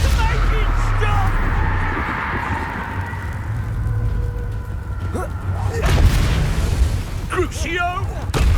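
Confringo blasting spell explosions in the Hogwarts Legacy video game: a few sharp, booming bursts in the later seconds, set against continuous game music and character voices.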